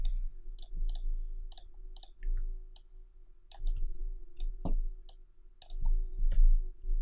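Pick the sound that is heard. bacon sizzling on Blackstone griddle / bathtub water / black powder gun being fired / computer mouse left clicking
computer mouse left clicking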